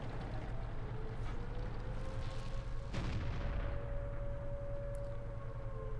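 A tank gun fires once in World of Tanks, a single sharp boom midway over a constant low engine rumble, with a faint ringing tone trailing afterward.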